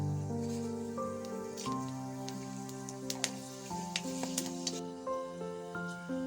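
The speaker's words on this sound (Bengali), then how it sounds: "তেলটা গরম হয়ে গেছে, এখন আমি দিয়ে দিচ্ছি এর মধ্যে পাঁচফোড়ন।" Panch phoron spices hit hot mustard oil for a pumpkin-stem chochchori, crackling and popping in brief sharp bursts over a soft sizzle, set against a steady melodic tonal background.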